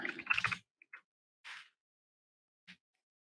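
A few quiet, scattered computer keyboard taps while typing a command: a short burst of keystrokes, then isolated clicks separated by silence.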